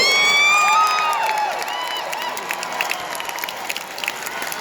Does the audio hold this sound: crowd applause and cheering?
yes